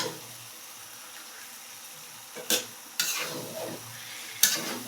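Meat sautéing in a pan gives off a faint, low background sizzle, broken by three sharp stirring scrapes of a utensil against the pan.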